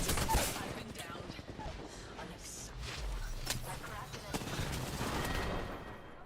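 Video game gunfire crackles almost nonstop: dense bursts of automatic fire and sharp individual shots, loud and close, layered over a busy battlefield din.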